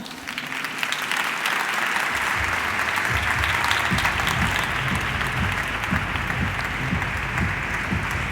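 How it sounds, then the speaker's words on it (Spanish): Steady, sustained applause from a large audience welcoming a speaker at a conference on sponge cities, a dense wash of clapping that holds at an even, fairly loud level throughout. "Un aplauso para él."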